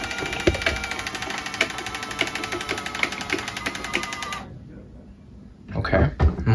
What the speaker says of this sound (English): now you can hear her motor.